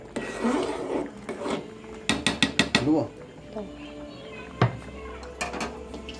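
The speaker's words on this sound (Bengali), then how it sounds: "বড়মশাই পায়েসটা নাড়ছে" A spoon scraping and knocking against a pot while payesh, a Bengali rice pudding, is stirred, giving a run of sharp clinks and rubbing scrapes with faint voices in the background.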